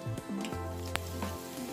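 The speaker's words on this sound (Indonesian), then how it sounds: "oke ini sisanya kita goreng lagi" Hot oil sizzles steadily up close as snacks fry, with a constant crackling hiss, a low humming tone underneath and a sharp click partway through.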